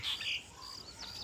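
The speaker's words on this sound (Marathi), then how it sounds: "हे कशी चिमणी चिवचिव करते" A few brief, faint high chirps of a sparrow at a distance in a village as rain clouds gather, then quiet outdoor ambience.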